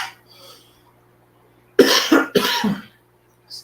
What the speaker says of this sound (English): This cough is driving me crazy.